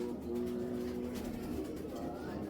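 Racing Giribaz pigeons, a super-champion bloodline pair, coo softly in a couple of low, rolling calls close by over a faint background hum, with no one speaking.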